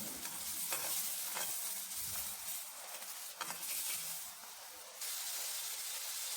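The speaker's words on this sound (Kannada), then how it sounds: "ಸ್ವಲ್ಪ ಫ್ರೈ ಆಗ್ತಿದೆ ಇದು ನೀಟಾಗಿ" Paneer curry masala fries in a pan with a steady, close hiss and sizzle, broken by a few scraping stirs and a brief dip in the middle, with no voices.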